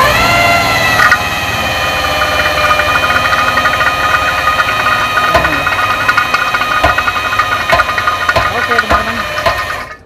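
A car engine turns over and settles into a loud, close, steady idle with a knocking throb and tonal hum, a van-type vehicle like a Gran Max in a workshop test, with voices talking over it.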